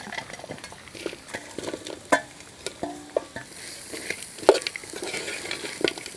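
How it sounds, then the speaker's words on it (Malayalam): Onions frying in coconut oil hiss in a pan while a spoon stirs and scrapes through them, giving repeated clanks and scraping strokes over a continuous sizzle. "വെളിച്ചെണ്ണയിലൊക്കെ കിടന്ന് ഇങ്ങനെ മുരിഞ്ഞ് നിൽക്കണ ഉള്ളി ഒന്നും കൂടെ ഇളക്കി കൊടുക്കട്ടോ"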